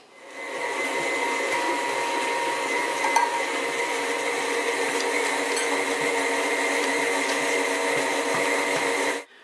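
An electric mixer runs steadily on cream cheese for a cheesecake, a constant close whirring drone with a slight motor whine that holds for about nine seconds and then cuts off.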